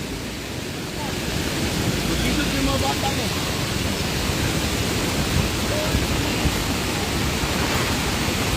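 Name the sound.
heavy rain during a flood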